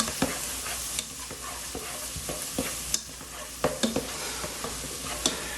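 Onions and red peppers frying in a pan for beef and bean chili, a steady sizzle broken by repeated scraping and tapping strokes as a utensil stirs the vegetables, close and with no talk.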